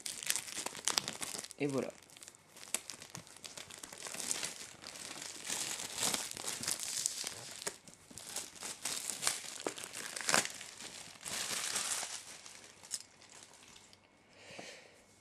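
Crinkly plastic wrap is torn and peeled off a Marvel Avengers box set in close, irregular bursts of crackling and rustling, with a voice speaking briefly.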